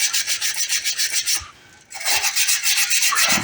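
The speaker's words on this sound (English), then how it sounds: "And then we'll just smooth it out with the Gator strips." Gator sanding strips rubbing over solar outdoor light contacts, a steady fast back-and-forth rasp with a brief pause midway, loud and close with no speech.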